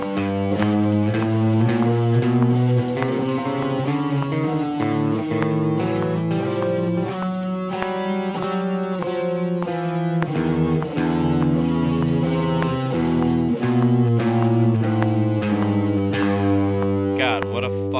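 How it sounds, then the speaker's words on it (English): An electric guitar, apparently through distortion and effects, plays a G chromatic scale as a steady, loud run of single notes rising and falling across the fretboard, heard alone without talk. "So altogether, your G chromatic scale should sound like this."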